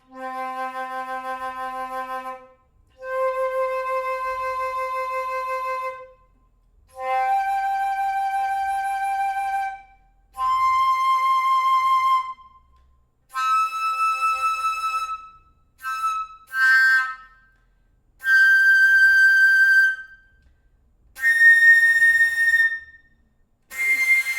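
A flute fitted with a beech wood Woodify ring plays a series of clear, sustained notes and short phrases, pure and close, each separated by brief pauses, rising in pitch toward the end.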